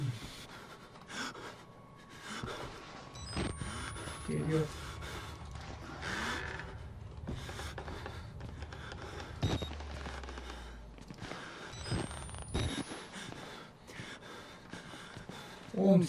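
Heavy, ragged breathing and gasps from a character in the horror video game Outlast, sounding in repeated bursts alongside in-game noises and a player's excited talking.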